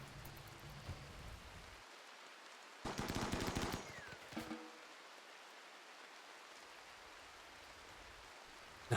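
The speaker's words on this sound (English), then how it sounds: "I'll go shoot a squirrel." Rapid burst of gunfire in a video game while shooting at a squirrel, a short rattling volley of quick shots lasting about a second, then a couple of fainter pops against a quiet, rain-like background.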